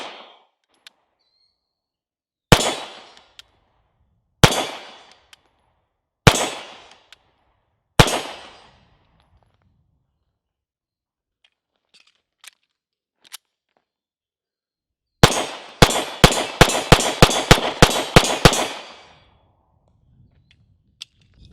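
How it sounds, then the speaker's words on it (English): A CZ 2075 D Rami pistol fired double action, right hand only: four widely spaced sharp shots come first, then a fast cluster of cracks, each loud and close, with near silence between. "We're gonna go ahead and finish out the remaining 5 rounds, double action only, right hand only,"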